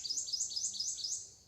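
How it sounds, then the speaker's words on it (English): Bird chirping outdoors during a morning yoga session on a deck, a run of about five bright repeated chirps in quick rhythm, fairly close and clear, with no talk over it. "Y'all hear that bird? Sounds excited that we're doing this morning."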